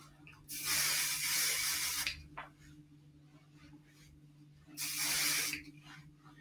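Session hair spray is sprayed onto styled, curled hair in two close bursts of hissing spray, each lasting over a second, separated by quiet.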